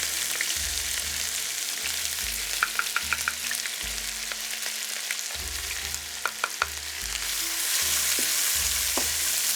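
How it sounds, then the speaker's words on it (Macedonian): Two chopped onions frying in oil in a wide pot, a continuous sizzle broken by intermittent sharp clinks and scrapes of stirring against the pot, close with no talking. "И сега го ставам кромидот да се запрши."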